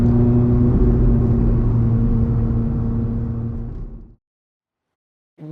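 A Ferrari F430 converted to a manual gearbox drives past on a road test, its engine a loud, steady rumble that fades out toward the end before a brief renewed burst.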